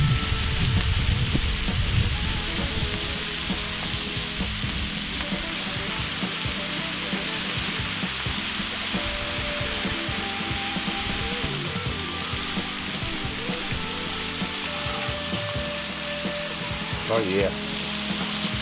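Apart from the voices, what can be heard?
store-bought bacon frying on a Cuisinart 360 griddle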